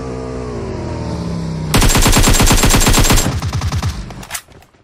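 Rapid automatic gunfire bursts out in a mobile shooter game, loud and close, a dense run of shots lasting about two seconds before breaking into a few spaced rounds and fading, with an engine-like hum beneath.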